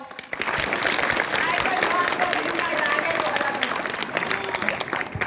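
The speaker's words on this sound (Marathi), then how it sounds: "जरा परत टाळी पिटाओ" An audience in a live Malvani comedy stage play breaks into loud, sustained applause, dense clapping from a crowded hall rising quickly and carrying on steadily, with voices audible beneath it.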